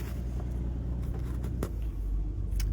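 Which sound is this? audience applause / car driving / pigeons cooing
car driving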